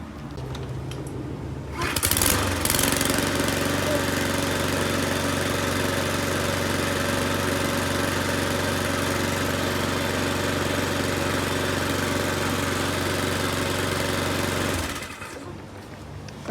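Mountfield RS100 SP414 lawn mower engine being pulled and firing up after a carburettor clean, then running at a steady loud, even drone for about twelve seconds before cutting off.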